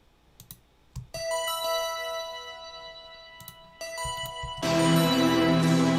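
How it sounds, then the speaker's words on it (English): In FL Studio, a synth bell from a synthwave track is auditioned as bright, sustained tones. Mouse clicks come first, and the sound swells into a fuller, denser chord near the end. "So let's find a different bell sound."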